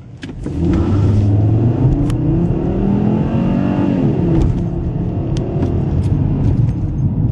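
A 2011 Volkswagen Passat accelerates hard from inside the cabin, its engine climbing steadily in pitch through the gears as a loud, sustained rumble with a brief dip mid-run before pulling on again.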